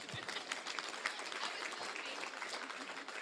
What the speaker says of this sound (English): So you can clap for that